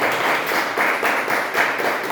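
A church congregation claps together in a steady rhythmic wash of applause, moderately loud and filling the room, with no voice over it.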